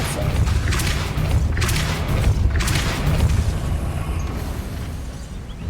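A Depulso spell is cast in Hogwarts Legacy, producing a heavy, booming burst of force with deep rumbling low end and repeated whooshing surges, loud and sustained throughout with no voices.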